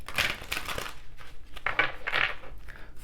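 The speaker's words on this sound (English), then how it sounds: "So let's do some shuffling." Tarot cards being shuffled, a run of papery riffling and crisp snapping bursts close by, with short pauses between handfuls and no talking.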